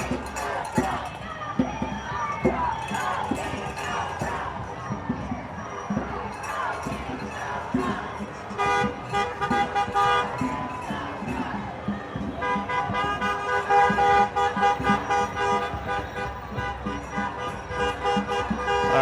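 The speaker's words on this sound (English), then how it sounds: "There's lots of, a lot of people going by here, honking their horns." Car horns toot repeatedly from passing traffic at a No Kings street protest in Indianapolis, mixed with crowd noise, road traffic and occasional cheering, sounding fairly close and continuous over about nineteen seconds.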